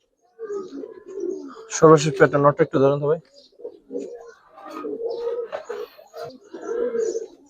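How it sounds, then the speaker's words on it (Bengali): Silver Giribaz and coloring pigeons coo softly in short repeated bursts close by, while someone talks over and between the calls. "ভাই চিলাগুলা সবগুলো আমার ঘরের কবুতর"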